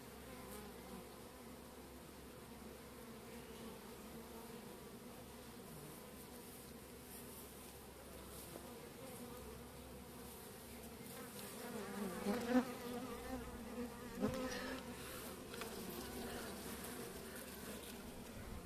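Honey bees buzz steadily around an open hive during frame inspection, a continuous close droning hum with a few louder passes as individual bees fly near.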